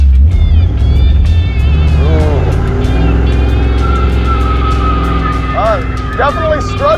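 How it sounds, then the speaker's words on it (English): Car engine revving hard during a two-tire burnout, loud and close with rising and falling revs and tire squeal, while people shout and talk over it. "Okay, ready? 2-tire burnout?"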